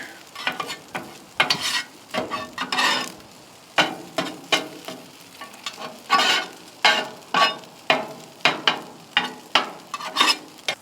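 Egg fried rice stirred and frying on a Ninja FlexFlame grill, with a steady run of loud, close scraping stirs and sizzle bursts repeating in a quick rhythm, with no talking.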